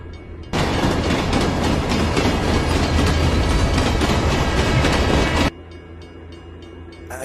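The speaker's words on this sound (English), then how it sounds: "I could hear the train getting louder and louder" A train rumbles past nearby, a loud steady roar of wheels and rail clatter that comes up suddenly, holds for about five seconds, then cuts back to a lower rumble.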